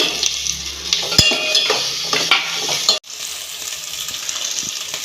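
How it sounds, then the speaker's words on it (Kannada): Onion, garlic and ginger frying in a pan for mushroom gravy, a soft, steady close sizzle with a few stirring scrapes and a clack midway. "ಇವಾಗ ಈರುಳ್ಳಿ, ಬೆಳ್ಳುಳ್ಳಿ, ಶುಂಠಿ ಎಲ್ಲ ಹಾಕಿ ಫ್ರೈ ಮಾಡ್ತಾಯಿದ್ದೀನಿ"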